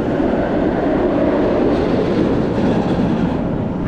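The Congo train ride at Busch Gardens rumbles steadily nearby, a loud, continuous rolling rail noise with faint clattering and no pauses.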